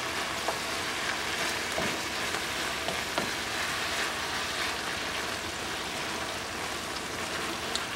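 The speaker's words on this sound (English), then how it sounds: "Now that my cheese is melting into my beef, I'll mix it in a little bit." Ground beef with melting cheese stirred in a frying pan gives a steady, close sizzle and crackle throughout, with faint scraping and stirring clicks and no talking.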